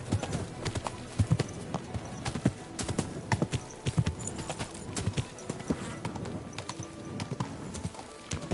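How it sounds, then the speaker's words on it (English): Horse hooves clip-clop over ground in Kingdom Come Deliverance 2, a steady, close, fairly loud walking rhythm of sharp knocks that runs throughout. "Easy, good horse."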